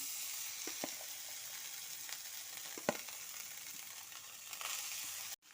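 Cooked rice tipped into a hot pan for herb rice fries with a steady close sizzle, dotted with light scraping clicks of stirring, before cutting off abruptly.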